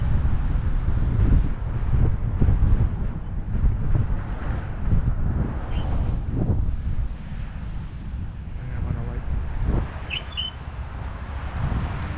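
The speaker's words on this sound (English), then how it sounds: "I do not want to get blown around in this wind while there are cars around me" Strong winter wind roars across the microphone of a light bike cycling along the Don Valley West Trail in Toronto, a steady loud buffeting rumble with gusts throughout and brief faint high tones near the middle and end.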